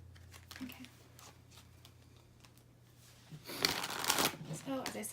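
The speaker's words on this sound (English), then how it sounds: "I'm trying to shuffle quietly" Tarot cards shuffled by hand, soft riffling and papery rustles under a quiet voice, rising to a louder burst of shuffling near the end.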